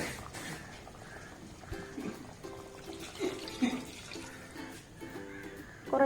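Water is poured into a blender jar to rinse out ground ginger paste for a ginger curry, with uneven trickling and splashing and a few small knocks, heard up close.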